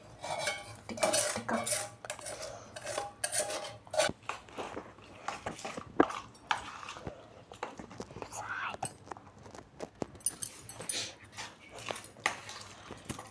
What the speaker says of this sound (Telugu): ఇలా బాగా మిక్స్ చేసేసుకొని అంతే